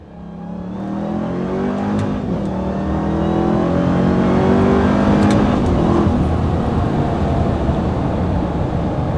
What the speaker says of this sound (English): Oh, and I love that little like supercharged whine that you get too.